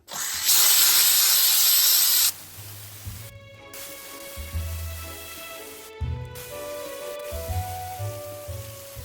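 A Dupray steam cleaner hisses loudly and steadily in a broad burst against an AGA oven for about two seconds, then stops, leaving quieter low hums and faint clicks.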